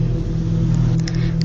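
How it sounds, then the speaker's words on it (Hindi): A car engine rumbles steadily at night as it jerks to a stop in an animated horror story, a low, close, continuous drone with no voices. "रात के समय कार धक्के खाते हुए रुक गई"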